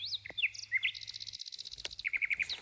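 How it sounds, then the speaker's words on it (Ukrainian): Small birds singing in an autumn grove beside a pond, quick chirps and a rapid repeated trill, close and fairly faint over quiet outdoor background. "А ось діти цьому гайочку ще чути спів пташок."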